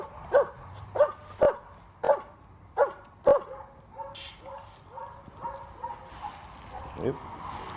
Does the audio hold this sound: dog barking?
yes